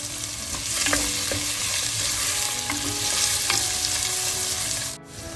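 Onion and garlic sauté steadily in a pan for a mutton curry, a continuous close sizzle and frying hiss with a few soft stirring knocks and scrapes, no talking.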